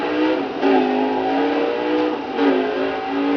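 A car in the Need for Speed Undercover racing game pulls away, its engine revving steadily with a couple of gear-change surges, loud and close with no talk over it.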